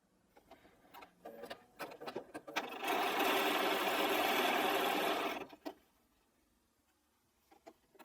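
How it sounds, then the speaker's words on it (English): A sewing machine stitches along the edges of quarter-cut quilt block squares in one steady burst of about two and a half seconds, with quieter handling sounds and brief knocks before and after. "So we're going to be sewing along this edge and along that edge."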